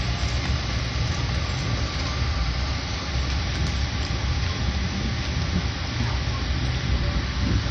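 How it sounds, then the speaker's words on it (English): Steady low rumble and rattle inside a moving Amtrak train carriage, constant and close, with no breaks. "This is what it's like to ride a train."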